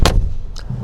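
Door of a Mercedes G580 electric G-Class slammed shut hard against its special latch, one sharp, loud, close bang followed by a brief faint click.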